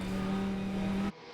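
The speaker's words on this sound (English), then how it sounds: "So down the inside goes the MR Porsche." A Porsche race car passes close during a three-hour New Zealand endurance race, its loud steady engine note holding for about a second before cutting away abruptly into quieter track ambience.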